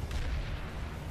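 Heavy gunfire booms in the PlanetSide 2 war zone, a dense low rumble of shots with no break for about a second.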